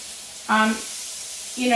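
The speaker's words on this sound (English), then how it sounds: "You hear that sizzle, okay?" Zucchini fries sizzle with a steady hiss on a hot grill while a voice cuts in briefly twice.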